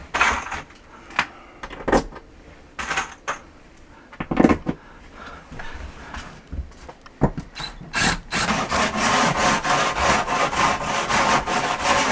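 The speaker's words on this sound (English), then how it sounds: "Drywall rasp, actually. Just to shave the edge down and make it fit better." A drywall rasp shaves down the edge of a board in a walk-in shower build, with bursts of rough rasping strokes followed by a longer continuous scraping run, close and fairly loud with no talk.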